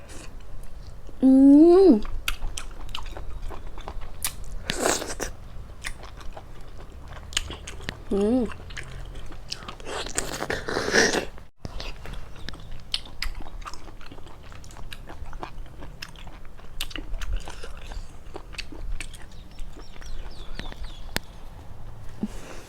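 Close, wet chewing and biting on blanched apple snails in a Thai Isan-style eating show, with crunchy bites in irregular bursts and occasional voice sounds.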